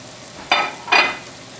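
Fish fillets frying in hot oil give two short, bright bursts of sizzling about half a second apart, close up, with quiet between them.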